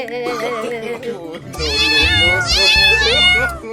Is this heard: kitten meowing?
yes